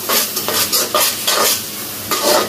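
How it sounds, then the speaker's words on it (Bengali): A chicken mixture seasoned with chili powder, coriander powder and meat spice is stirred in a hot pan: repeated scraping strokes over a steady sizzle, close and fairly loud, with no voices. "এখন একটু নেড়ে নিব।"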